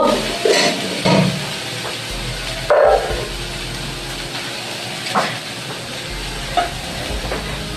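Freshly grated coconut tipped into a wok and stirred for a patisapta filling, a soft hiss with a handful of scraping, thudding spatula strokes spaced unevenly, close by, with no talking.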